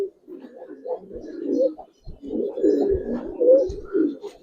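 Giribaz pigeons, including a female, give a run of low rolling coos close by, pausing briefly near the middle before resuming with fuller, louder calls and a few soft knocks.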